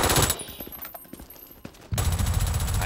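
Automatic gunfire from guns in the shooter video game Brink, loud rapid bursts that break off for about a second and a half and then resume at full intensity.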